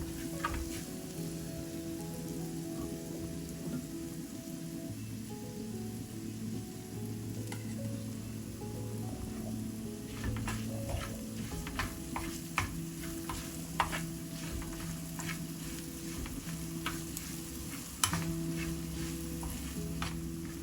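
Tempering ingredients for lemon rice sizzle and fry in a pan, a steady soft crackle with scattered pops and occasional stirring clicks throughout, no voices.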